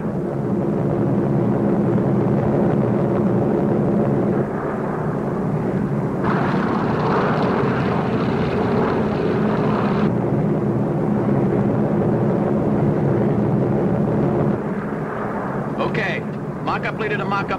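Steady droning roar of World War II bomber engines flying close in formation, loud and continuous throughout, with radio-style voices talking over it.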